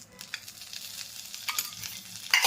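Ambadi leaves roast in a few spoonfuls of hot oil, giving a steady, close sizzle with bursts of louder crackling and stirring scrapes throughout.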